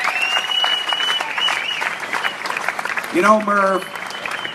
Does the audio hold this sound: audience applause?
yes